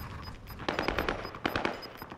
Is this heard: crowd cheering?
no